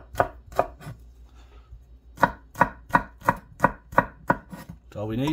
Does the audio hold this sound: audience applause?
no